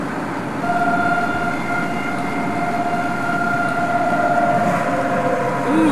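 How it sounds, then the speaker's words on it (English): Tornado sirens wail during a storm in Huntsville, a sustained, steady tone carrying over a loud, continuous background rumble, heard from some distance. "Tornado sirens are going crazy today."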